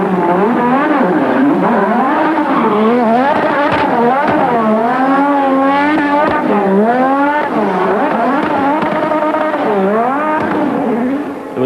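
A 1986 Williams F1 car driven by Mansell in a demonstration at Brands Hatch, howling and wailing continuously through cornering, its rising and falling engine pitch blending with tyre squeal, loud and close throughout.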